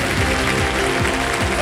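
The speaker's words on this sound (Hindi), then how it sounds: "जोरदार तालियां बज जाए मधुरिमा जी के लिए।" A game-show studio audience applauds a contestant, dense, steady clapping filling the whole moment at close range with no talking over it.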